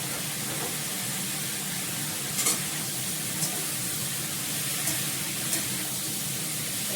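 Fried eggplant sizzles in a hot pan as it is stirred, a steady hiss of frying with a few faint scraping clicks from the stirring.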